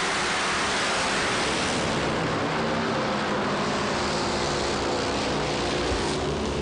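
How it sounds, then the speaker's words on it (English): Motorcycles roar down a quarter-mile drag strip on a cool evening, a loud, steady wall of engine noise filling the whole stretch without letup. "Another terrific drag race."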